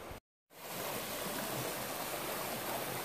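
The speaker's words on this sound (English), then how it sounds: "So, even just walking through to ford the creek, minnows come up and bite my legs." A creek flowing outdoors, a dense, even wash of running water after a brief dropout, steady and fairly loud with no talk over it.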